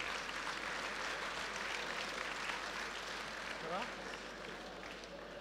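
An audience at a cow show in a livestock section at Fougères applauds in a steady, dense wash of clapping. A voice speaks over the applause.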